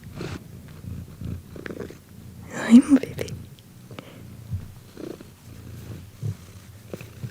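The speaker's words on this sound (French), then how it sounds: "Tu ronronnes à la caméra." A cat purrs close to the microphone, a soft low rumble running under gentle whispered and murmured talk, with a brief louder rustle near the mic partway through.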